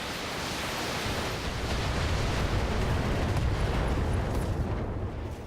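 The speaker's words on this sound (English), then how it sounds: "LRM ammo explosion there." An LRM ammunition explosion in the BattleTech video game, heard as a loud, sustained, roaring rumble of blast noise that fills several seconds before fading slightly at the end.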